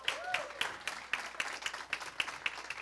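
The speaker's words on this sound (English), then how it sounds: "let's give them a round of applause" Quiet, sparse applause at a transportation awards ceremony, with a few distinct claps standing out in an irregular rhythm against a thin crowd background, heard from a distance.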